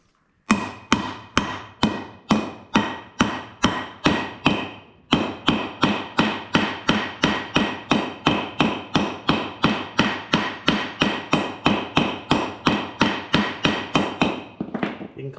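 Bearings on an Ifor Williams trailer are driven in with a hammer, a long run of loud, evenly spaced metallic blows close by, about two or three per second, with one brief pause early on.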